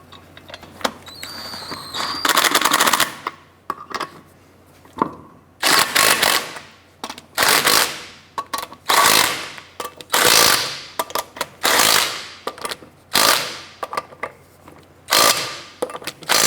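Lug nuts are snugged down on a 2006-2013 Chevrolet Impala's wheels in repeated bursts of loud, close ratcheting, each lasting about a second with short pauses between, over a faint steady hum.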